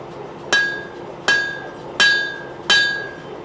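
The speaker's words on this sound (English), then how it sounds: "I'm just going to use the edge of the hammer there with the edge of the anvil" Four evenly spaced, ringing hammer blows strike a stainless san mai knife blade on the edge of an anvil while its bevels are forged, loud and close, each with a bright metallic ring.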